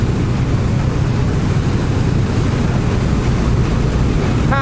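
Strong wind batters a trucker's microphone outdoors, a loud, steady, unbroken roar of buffeting noise that fills the whole stretch with no pauses.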